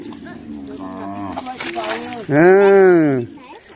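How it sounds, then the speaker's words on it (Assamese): People talk briefly, then a cow lets out one loud, drawn-out moo close by. "মুকুৰা বান্ধিলে নৰখে গৰুকেইটা"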